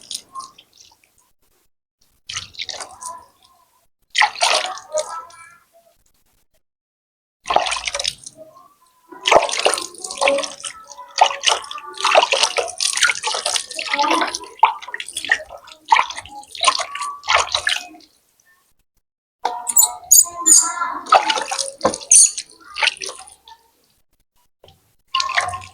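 Water rinses soap away in repeated splashy bursts, with on-and-off sloshing and dripping separated by short silences, fairly close and loud, and no talking.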